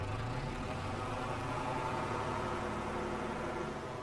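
A tractor engine in Farming Simulator 22 runs at a steady, even idle with a low rumble and airy noise, heard alone with no talk.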